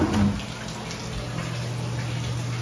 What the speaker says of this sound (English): run all the water, make sure there's no clogged drain